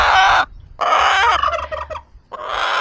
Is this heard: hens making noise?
yes